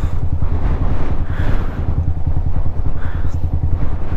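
Strong wind near a bridge linking Alabat island to mainland Quezon buffets the microphone in a loud, continuous rumbling roar with gusty surges and no pause throughout.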